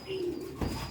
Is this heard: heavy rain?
no